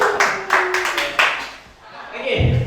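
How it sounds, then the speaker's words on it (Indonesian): Scattered hand clapping from an audience at an Indonesian school training session on positive culture, a few loud bursts fading within seconds, mixed with voices talking over it. "Tepuk tangan buat kita semua."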